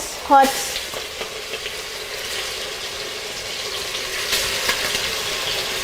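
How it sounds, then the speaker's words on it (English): Steady sizzling and crackling of chicken searing in hot oil over high heat, with a brief clatter at the start and some stirring noises. "sear the chicken in the hot oil because we want to brown it"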